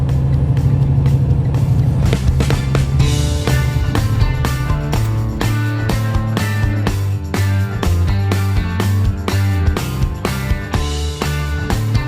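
A truck rolls slowly up to a gate, its engine a steady, loud low drone overlaid with a regular ticking pulse throughout.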